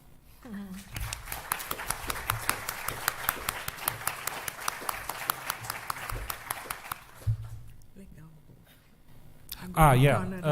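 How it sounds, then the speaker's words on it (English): An audience at a book launch breaks into applause that swells briefly after a spoken word and then gives way to quiet; people talk before and after the clapping. "Please, I ask you, please make your applause theirs."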